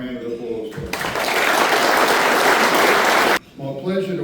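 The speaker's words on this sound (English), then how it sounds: "can we all give them a round of applause for it" Loud, sustained applause from a conference audience at an evening event in a woolshed venue, a dense clapping wash lasting about two and a half seconds, with a speaker's voice heard before and after it.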